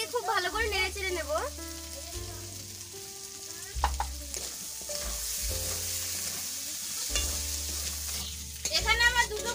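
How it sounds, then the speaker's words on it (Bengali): Curry frying in oil in a pan as it is stirred, with a steady sizzle and repeated scraping strokes of the spoon throughout. "আমি এখন আর 1 চামচের মতো তেল দিয়ে এটাকে খুব ভালো করে নেড়ে চেড়ে নেব।"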